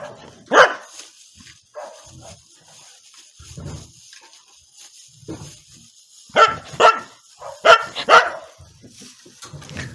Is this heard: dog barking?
yes